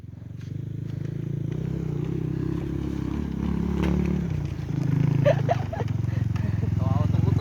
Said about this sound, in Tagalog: magpahingan ko lang tong motor na to, tapos patayin ko na lang